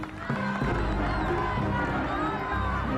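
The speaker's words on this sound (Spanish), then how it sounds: "El público comienza a aplaudir." A live television studio audience of a competition show breaks into applause and cheering, a dense, loud crowd roar with clapping that holds steady throughout.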